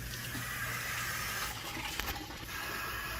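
Garden hose on its strongest spray setting blasting water into the radiator of a 1998 Lincoln Town Car during a coolant flush, a steady close broadband hiss and gush that runs throughout.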